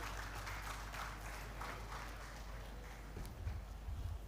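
Applause for a professor from an audience at an agroecological market systems expo, a steady soft patter of many hands clapping throughout, somewhat distant and even in loudness.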